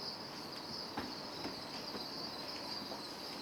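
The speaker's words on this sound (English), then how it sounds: "often holding several thousand crickets per container." Juvenile crickets chirp continuously in containers holding several thousand each, a dense high shrill drone that is steady and fairly faint, with no voices.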